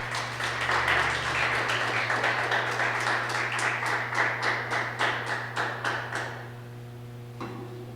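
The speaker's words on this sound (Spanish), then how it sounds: "Denle una ofrenda de aplausos a Él." A church congregation claps as an offering of applause to God, dense rhythmic clapping over a steady low hum, thinning into a few scattered claps before stopping.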